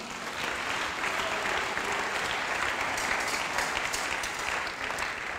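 A church congregation applauds steadily for several seconds at a service led by a pastor, the dense clapping sustained and fairly even with no voices standing out.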